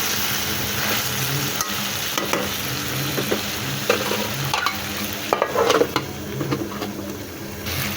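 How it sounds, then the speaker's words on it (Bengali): Mango and lotiyam curry is sautéed in a pan, with a steady close-up sizzle of frying broken by scraping, clinking stirs of the spoon against the pan. No one speaks. "তো নাড়াচাড়া দিয়ে দেবো কষানোর মাঝখানে।"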